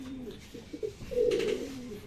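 Racing pigeons give a few soft, low throaty coos close by, with a faint background hum.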